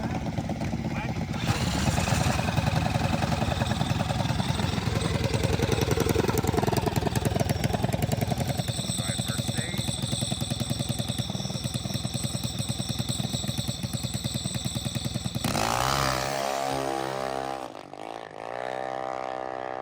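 A drag racing mini bike on an eighth-mile strip at night roars loud and steady through launch and hard acceleration, then its engine note drops and fades as it runs off, with a voice briefly heard near the end.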